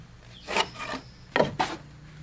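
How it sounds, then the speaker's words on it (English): A pencil scrapes along wooden rafters marked against a rafter template with a 4-12 plumb cut: four short rasping strokes in two pairs, close and fairly loud, with no talk. "we're using this piece of rafter template. It has a 4-12 plumb cut on it, and we're marking our rafters."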